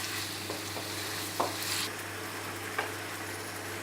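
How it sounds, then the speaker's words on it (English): Pork stir-frying in a pan for Chinese fried noodles gives a steady close sizzle, with a few light scrapes and taps of the spatula as the meat is turned, no talking. "stir fry"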